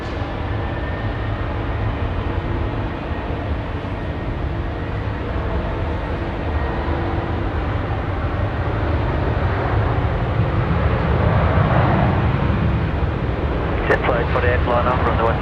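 Qantas 520 airliner taking off from runway 16 right at Sydney Airport, a steady loud engine roar that swells toward the end, with a voice talking over it.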